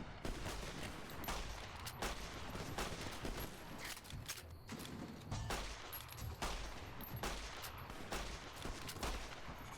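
Submachine gun fire in a modded Fallout: New Vegas, repeated sharp bursts of close shots cracking in irregular clusters throughout, with no talking.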